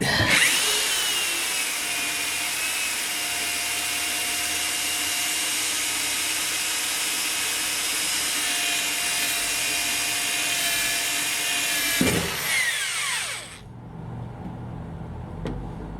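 A power drill with a worn bit whirs continuously at a steady pitch for a long stretch, then winds down and cuts off, leaving quiet background noise.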